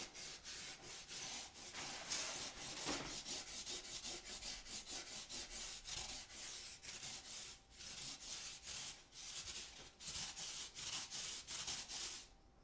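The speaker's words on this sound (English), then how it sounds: "And this is a rasp." A hand rasp carves foam for costume wings, making steady, rhythmic back-and-forth scraping strokes that are quiet and close, with brief pauses between runs.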